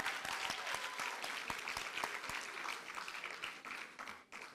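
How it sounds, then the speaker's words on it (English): Audience at a Bharatanatyam arangetram dance recital gives sustained applause, a dense even wash of clapping with a few sharper nearby claps, fairly faint, tapering off at the end. "Please give Shriya and Tarunya another round of applause."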